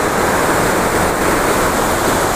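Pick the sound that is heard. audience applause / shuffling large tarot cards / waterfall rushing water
waterfall rushing water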